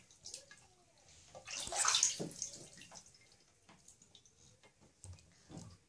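A young child splashes and sloshes water in a bathtub at home, with soft irregular splashes and one louder burst of churning water, fairly quiet and close, with no talking.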